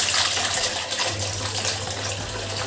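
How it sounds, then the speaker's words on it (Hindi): Soaked shikakai, amla, reetha and fenugreek with their soaking water tipped into a wok, a steady gushing pour of liquid close by, fairly loud and continuous without talk. "हमने रात भर जो भिगो के रखा था उसे इस कढ़ाई में शिफ्ट कर देंगे"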